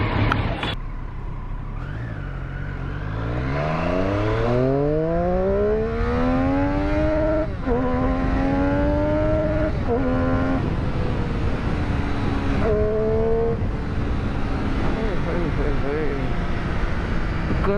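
A Triumph Street Triple RS motorcycle engine fires up, then idles and is revved, its pitch climbing and falling in a loud, close, throaty drone with sharp throttle blips, and someone talks over it.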